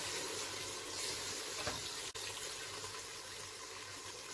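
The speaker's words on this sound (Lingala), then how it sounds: "Sauce ebeli sikoyo" A pot of sauce with oil risen to the surface bubbles steadily, a continuous close hiss and sizzle with a brief soft knock partway through.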